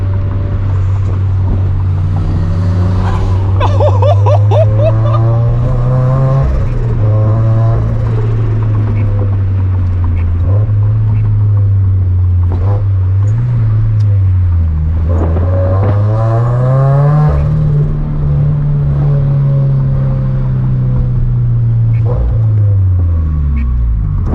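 A 600 HP twin-turbo Nissan 370Z Nismo accelerating hard on city streets in Chicago, its loud droning engine rising and falling through gears with turbo spool whine, close up and sustained.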